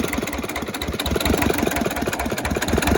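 A Hinomoto tractor diesel engine idles a little low after injector cleaner was added to the fuel, with a close, steady, rhythmic knocking chug throughout.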